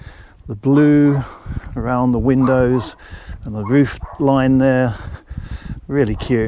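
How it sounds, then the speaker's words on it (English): Small yappy dogs bark in the background of a village street in southern Spain, while a person talks over them almost continuously. "Excuse the barking dog, more little yappy dogs."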